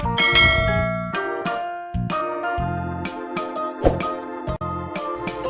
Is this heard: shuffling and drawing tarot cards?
no